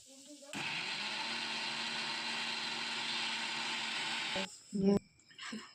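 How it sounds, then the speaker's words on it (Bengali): An electric blender mincing beef for kofta, its motor whirring loudly and steadily for about four seconds before cutting off, followed by brief handling clatter and faint voice sounds. "মাংসগুলো দিয়ে ভালো করে কুচিয়ে নেবো"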